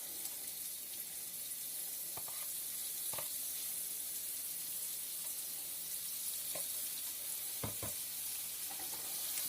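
Bread for chicken bruschetta toasts in melted butter in a pan, a soft, constant sizzling hiss with a few sharp clicks and scrapes of a utensil, fairly quiet and free of speech.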